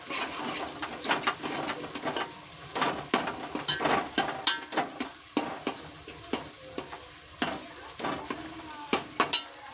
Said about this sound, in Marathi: आता अद्रक लसूणची पेस्ट टाकून आपण